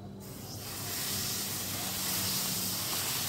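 Dosa batter made without soda, curd or Eno hits a hot pan with a sudden, steady sizzle. The hiss swells slightly and holds evenly, close and alone with no talk.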